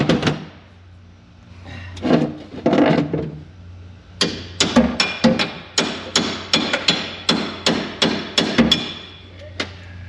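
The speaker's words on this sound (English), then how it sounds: "might need a hammer." A hammer drives bolts out of a winch on a farm during corn silage work: a few scattered knocks, then a steady run of about a dozen loud, sharp metallic strikes close by.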